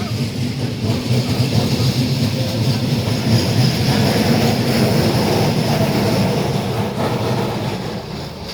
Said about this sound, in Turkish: Bu nasıl bir tren gelişi?